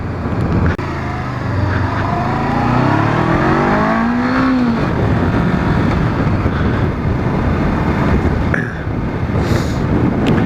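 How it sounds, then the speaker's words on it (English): A Honda CB500F motorcycle, a 2013 model, revs hard toward the red line, its engine note climbing steadily in pitch under loud, constant wind rush before the gear change. "So it hits the red line quite quickly there."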